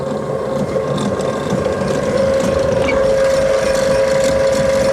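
A TV-16 lathe spins after a main belt change, set to the top speed of the second range at 400 rpm, its motor struggling to bring the spindle up to speed: a steady, loud mechanical whir with a ratcheting, gear-like texture, continuous and without talk.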